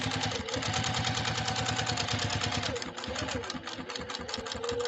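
A JUKI TL 2020 PE sewing machine stitches steadily and loudly, its rapid needle chatter running continuously with a brief slowdown partway through.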